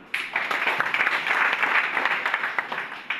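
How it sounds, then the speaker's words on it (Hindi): An audience at a Modicare networking meeting breaks into brisk, steady clapping that holds throughout, full and near, with individual hand claps popping out of the wash. "और इनके लिए ताली बजाओ।"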